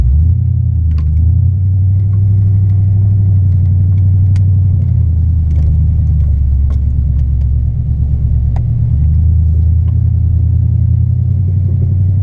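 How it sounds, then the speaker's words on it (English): A high-mileage truck driving, its engine humming with a deep steady rumble and road noise from inside the cab, with occasional small rattles and clicks over the drone. "So while we're driving, which hopefully you can hear me because this truck, it has very high miles on it"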